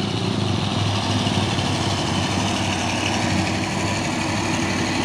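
Heavy diesel dump trucks loaded with oil palm fruit labor up a hill, a continuous low engine drone that stays loud and steady throughout.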